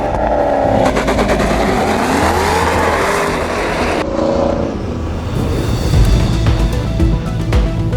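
A 2021 Maserati Ghibli Trofeo drives on the road, its engine loud and continuous as it revs and shifts, with a short dip in pitch partway through before it pulls again, heard alone without talk.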